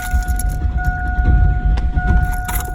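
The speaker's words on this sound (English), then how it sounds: "I tried to turn over the engine and it did not turn over." A van engine cranks over repeatedly without catching as the key is turned, a steady low churning with some jangling of keys, close and loud with no talk.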